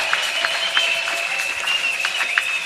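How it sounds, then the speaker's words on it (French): A church congregation at a worship service claps loudly and steadily in a dense, continuous burst of applause for Jesus, with no voices standing out. "Nous acclamons fort pour Jésus."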